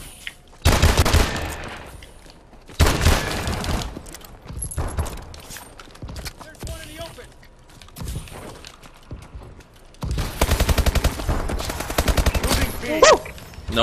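Rapid bursts of automatic gunfire from the shooter game Call of Duty: Advanced Warfare, loud sustained volleys separated by quieter gaps with scattered shots, a few mechanical clicks and brief talk in between.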